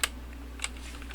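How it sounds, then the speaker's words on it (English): A command is typed on a computer keyboard in three quick, crisp key clicks spaced across a quiet moment, close and clear over a low room hum. "let's type in the help command"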